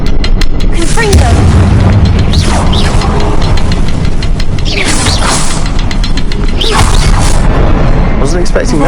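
Fire-blast spell effects from a Harry Potter video game erupt in several loud, booming bursts with whooshing sweeps, dense and close, over continuous game background noise.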